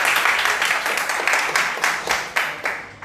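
Indoor audience at a Hindi poetry performance breaks into a brief round of steady applause, many hands clapping close together and fading slightly toward the end.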